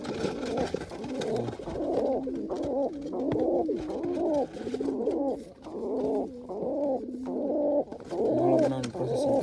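Pigeons kept among their chicks coo continuously in a close, rolling chorus of throaty calls for the full stretch, with no talk over them.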